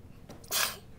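A single quick sneeze bursts out close by in a dark cave, preceded by a short sharp intake of breath, in an otherwise quiet space.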